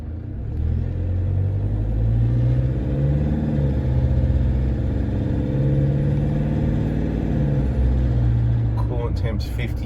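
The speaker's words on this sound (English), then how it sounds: "you hear a lot of HILUXes. This one is pretty rattly." A rattly Toyota Hilux diesel engine idles close by, a loud, steady low clattering rumble that holds evenly throughout before a few faint clicks near the end.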